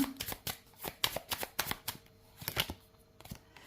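Tarot cards are shuffled and laid out in quick, crisp riffling bursts with brief pauses between, close and fairly loud, with no talking.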